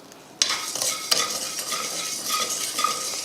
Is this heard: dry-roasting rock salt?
yes